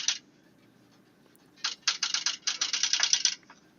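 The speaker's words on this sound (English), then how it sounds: "it looks like it's an electric typewriter" An electric typewriter is typed on: a single keystroke, then a pause, then a quick run of sharp mechanical clacks in an irregular rhythm, close and fairly loud in a quiet room.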